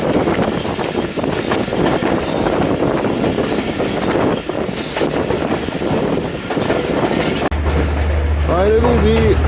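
Bolan Mail passenger train running on rails at night, a loud continuous rumble with rhythmic clatter and rushing wind throughout. A voice is heard over it.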